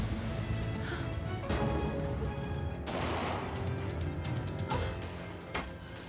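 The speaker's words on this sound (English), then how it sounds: "What are those? Gunshots?" Several sharp, loud bangs of gunfire ring out at irregular intervals over a dense, noisy background, with cracks near the start, in the middle and toward the end.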